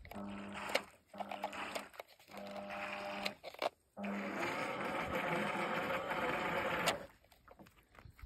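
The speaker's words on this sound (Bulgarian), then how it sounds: "натискаме бутон 1 и се отваря левия кош" A small electric motor on a D19 bait boat whirs and buzzes in bursts as it opens the left bait hopper, stopping and starting with clicks, then runs steadily for a few seconds before cutting off.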